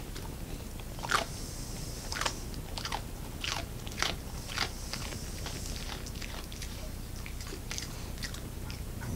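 An American Eskimo dog bites and crunches on food, with sharp, irregular crunching chews repeating every second or so over a steady soft background hiss, close and fairly clear.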